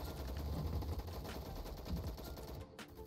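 Rapid automatic gunfire in the Roblox first-person shooter Gunfight Arena keeps up a dense, continuous burst of shots that cuts off abruptly near the end.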